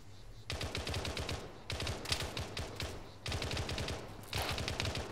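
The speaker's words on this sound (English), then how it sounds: "Three, is that you shooting right now?" Rapid automatic gunfire from a military firefight in ArmA 3, loud bursts of machine-gun fire in four long volleys separated by brief pauses, continuous and dense.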